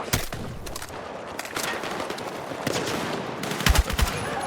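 Enemy gunfire in the Battlefield 6 campaign, a steady crackle of automatic bursts and sharp shots filling the scene, with louder, heavier impacts toward the end.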